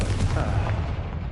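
Explosion from the Confringo blasting spell in the Hogwarts Legacy video game, a loud, deep, booming blast that rumbles briefly and fades.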